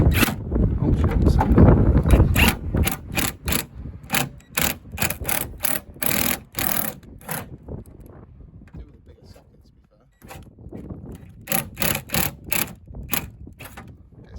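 An impact gun fitted with a socket, used against a car's wheel arch to roll it, fires loud rapid bursts in repeated stop-start runs, with brief pauses between them and one longer gap partway through.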